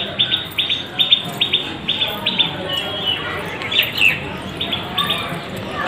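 Birds calling from a village rooftop where pigeons gather, with a steady run of short chirps and tweets over soft outdoor background noise, no talking.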